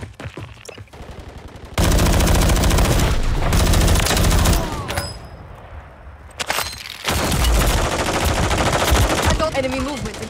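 Call of Duty gunfire: sustained machine-gun bursts and rapid shots crackle loudly in long stretches, with brief lulls between volleys and faint game voice lines underneath.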